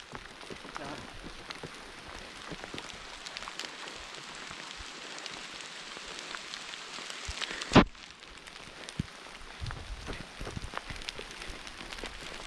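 Dense patter of hail striking a surface on a mountain trek near a shelter, steady throughout, with one sharp loud crack midway.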